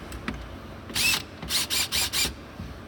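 Bolts are tightened with a ratchet during a storage system fit-out in a 2019 Ford Ranger dual cab, giving one quick burst of ratcheting clicks followed by four short rhythmic bursts, close and fairly quiet.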